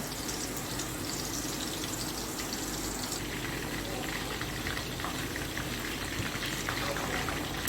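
Beef kebabs frying in a pan over medium heat give a steady, fairly faint bubbling sizzle that carries on with no break and has no voices over it.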